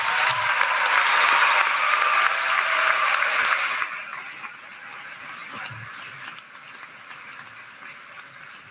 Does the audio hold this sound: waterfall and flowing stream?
no